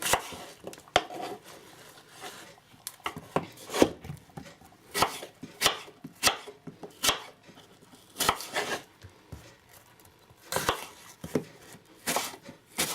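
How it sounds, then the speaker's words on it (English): Cored apples being roughly sliced with a knife for an apple pie, a series of irregular crisp cuts and knocks on a board, close and alone with quiet pauses between. "now you can just roughly slice your apples"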